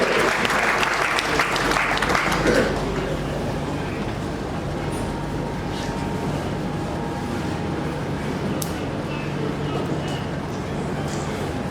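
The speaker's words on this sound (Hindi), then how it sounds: "राजीव गोपाल जी के लिए जोरदार तालियों से" An audience at a Chamber of Industries and Services foundation-day event in Saharanpur breaks into loud applause that lasts about two and a half seconds, then gives way to a quieter room with murmuring and a low steady hum.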